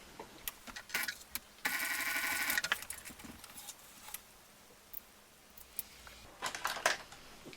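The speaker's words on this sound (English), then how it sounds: "I'm going to sew up just one row of stitching up close to the D-ring." A sewing machine runs one burst of stitching along a row close to the D-ring of a crossbody bag, loud and close for about a second, with scattered handling clicks and taps around it.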